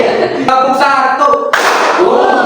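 One clear hand clap rings out close and loud amid a voice speaking in a room, followed by brief noisy movement.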